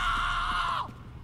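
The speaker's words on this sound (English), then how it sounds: "That scream, and no one reacts to that scream." A loud, sustained scream in the Wolfenstein 2: The New Colossus video game, held steady for nearly a second and then breaking off abruptly into a falling tail.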